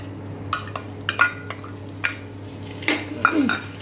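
Leftover ghee residue tipped into a kadhai with a series of sharp metallic clinks and scrapes from a spoon against the pan, spaced irregularly, close and otherwise quiet.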